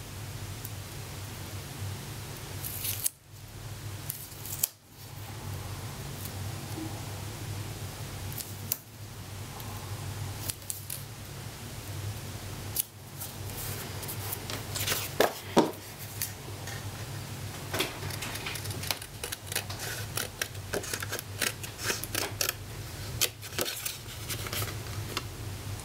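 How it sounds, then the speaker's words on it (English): Scissors cutting white cardstock: intermittent close snips and crisp rustling over a steady low hum, sparse at first and growing denser toward the end, with no speech. "I'm going to stick it on a piece of white cardstock so that I can then cut it out."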